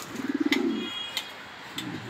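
A racing homer pigeon, a 2022-ringed bird, gives a short run of rapid, bubbling coos up close, then falls quiet before a softer second burst of cooing near the end.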